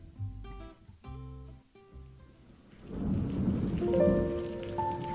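Rain and rolling thunder from a stage show, beginning under a tonal music passage and then building into a steady, fairly loud downpour with rumbling thunder that swells toward the end while tones sound faintly above it.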